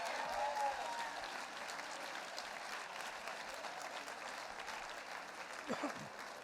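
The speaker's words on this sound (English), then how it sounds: "How about a round of applause for these 2?" Applause from a dinner audience at an enshrinement weekend welcome event, a steady broad wash of clapping sustained throughout with a brief voice near the end.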